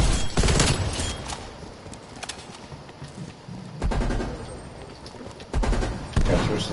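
Loud bursts of automatic gunfire from a Call of Duty: Cold War match come in three sharp volleys separated by quieter stretches of background game noise.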